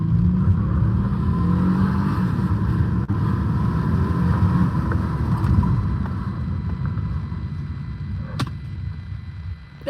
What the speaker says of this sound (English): this old shitbox does make a pretty good noise when the VTech kicks in